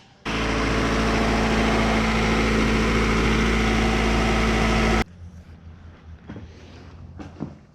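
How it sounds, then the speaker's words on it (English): A Honda CR-V with a B-series engine running right after oil pump O-ring and oil pan gasket work, giving a loud, steady close-up idle for about five seconds before cutting off to quiet handling noises. "I got the CRV running again."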